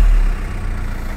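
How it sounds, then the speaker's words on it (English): VW group car engine running just after starting, following ABS pump replacement, a loud close steady idle rumble with a heavier low burst at the very beginning. "And if I start the car,"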